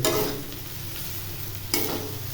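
Leftover rice fries in a pan for a bachelor's breakfast, a loud, close, sputtering sizzle with a sharp burst at the start and another near the end, with no talking.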